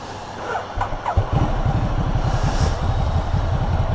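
A motorcycle engine cranks and catches, then settles into a steady, rapid idle putter that runs on close by with no talking.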